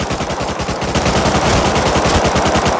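Rapid automatic gunfire in the console version of the video game Rust rattles in a dense, continuous burst of close, loud shots for nearly three seconds, with no talking.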